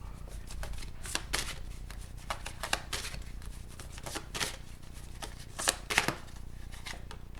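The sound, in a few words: shuffling a tarot confirmation deck of cards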